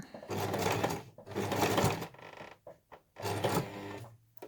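A domestic sewing machine stitches jubilee bunting in three loud, steady running bursts separated by short pauses, with the motor hum and rapid needle clatter close by.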